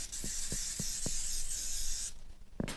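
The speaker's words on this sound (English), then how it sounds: "Spray the bottom lightly." A steady hissing spray of cooking oil from a can runs for about two seconds onto bread molds, then cuts off, with a few soft clicks from the nozzle before and after.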